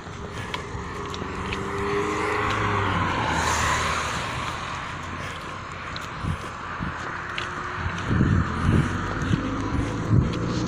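Traffic on a road while driving past trucks, a steady broad roar of tires and engines with a louder rushing swell midway and some closer knocks and bumps toward the end.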